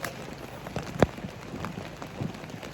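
Rain patters faintly on a tent while campers are overlanding in the Ozarks, a soft, even hiss with a sharper drip or tap standing out now and then.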